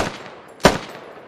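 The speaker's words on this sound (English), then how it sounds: "Silas takes shots at Appa. One round hits." A single sharp gunshot in the military shooter Squad cracks out mid-clip over quiet ambient background, brief and fairly close, with no voices.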